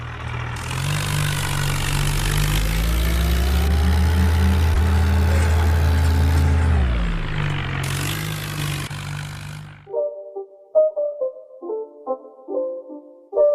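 A tractor engine in the mobile driving game Indian Vehicle Simulator 3D drones loudly and steadily for several seconds, its pitch rising and then falling as it winds down, followed by short chiming game interface tones.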